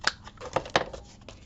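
Scissors snip around the edges of paper for a Christmas journal window envelope, a few short, close cuts spaced unevenly over a quiet background.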